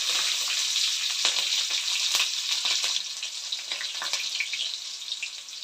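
Onions fry in hot oil with cumin seeds, a steady bright sizzle with crackling pops close up, slightly softening after a few seconds, with no talk.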